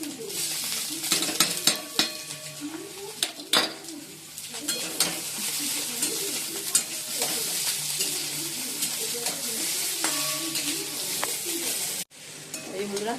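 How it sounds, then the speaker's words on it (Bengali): An egg frying in a pan in a home kitchen, giving a soft steady sizzle with scattered clicks and scrapes, while birds coo and chirp in the background; fairly quiet and continuous. "আর এদিকে ডিমটা ভাজা হচ্ছে।"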